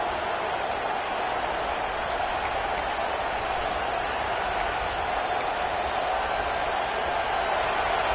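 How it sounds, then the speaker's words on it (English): A football stadium crowd roars steadily through the whole stretch as a dense, even wash of far-off noise, with a broadcast commentator talking over it. "The roar of the crowd trying to fuel this defense to keep them pinned in their own end."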